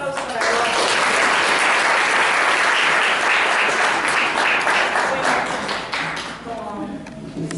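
A seated audience at a talk on reading, culture and literature gives Eduardo a round of applause, a dense wash of many hands clapping that holds strong for several seconds, then thins and fades near the end.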